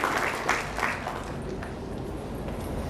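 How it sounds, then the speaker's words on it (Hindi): Audience at a hotel association swearing-in ceremony claps steadily, a dense patter of many hands at moderate distance that gradually fades out. "सभी से जोरदार तालियों की गुजारिश करना चाहूंगी।"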